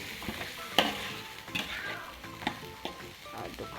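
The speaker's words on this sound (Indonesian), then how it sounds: "kita tumis dia sampai dia punya bumbunya masak ya teman-teman" A spice paste with ground coriander being stirred and sautéed in a pan: a close, soft sizzle broken by several scraping knocks of a spatula against the pan, with no talking.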